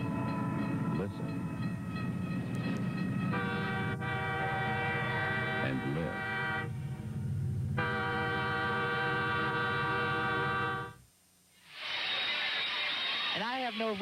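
A train rumbles past a grade crossing, loud and close, with long sustained horn blasts that stop abruptly and then a brighter screeching, whistling tone near the end. A brief voice is heard.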